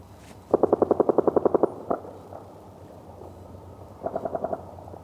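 Automatic gunfire from several weapons on a distant range, a quick string of about a dozen evenly spaced shots, a lone crack, then a shorter burst of five, faint and echoing across open ground.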